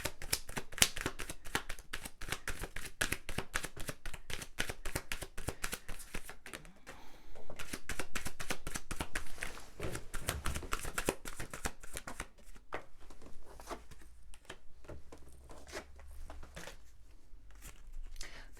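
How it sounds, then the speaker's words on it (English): A deck of tarot cards is shuffled by hand, close and crisp, in quick papery riffling bursts that repeat with brief pauses, continuing steadily with no talking. "apologies if the noise of the shuffling is loud"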